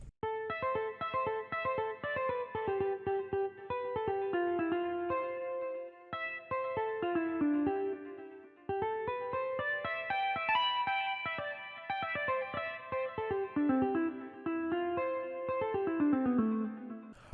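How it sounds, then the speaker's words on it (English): Guitar from the Purity plugin's Jazz Clean preset, guitar unplugged category, plays an amapiano interlude of plucked notes in descending runs, processed with chorus and reverb, steady and alone for about seventeen seconds. "our guitar sound was actually selected from a plugin called Purity, and we are using the Jazz Clean preset under the guitar unplugged category"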